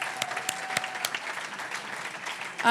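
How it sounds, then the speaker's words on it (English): Applause from an audience at a business pubtalk event, moderate and somewhat distant, with scattered sharp claps over a steady patter that swells near the end. "So I want to give our 10 companies a round of applause to get started in the second half."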